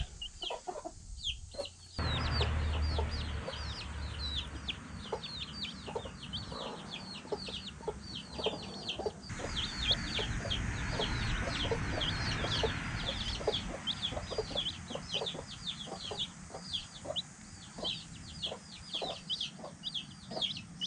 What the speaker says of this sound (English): They're scratching around, they're doing like the chickens do.